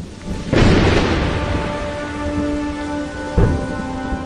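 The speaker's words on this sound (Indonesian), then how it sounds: "Benar saja, hujan turun dengan derasnya." Heavy rain pours steadily, broken by two loud, booming thunder claps, one near the start and a shorter one near the end.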